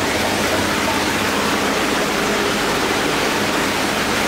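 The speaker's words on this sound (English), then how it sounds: "But it overflows right into the tank" Water overflowing and pouring into a large aquarium tank holding albino geophagus at a fish shop in China, a steady, close rushing splash that runs without a break.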